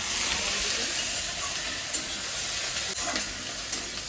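Taro curry stir-fried in a pan gives off a loud, continuous, close sizzle, with a few soft clicks and scrapes of a spatula against the pan.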